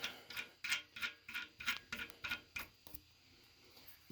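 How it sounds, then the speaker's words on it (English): A wrench ratchets steadily in a run of about ten quick, evenly spaced clicks, then slows to a few faint clicks, tightening a nut to press a harmonic balancer onto a Mercruiser GM 4.3LX V6 engine, close and quiet with no talk. "Then we'll use a wrench on this, and a crescent wrench on this, and press it on."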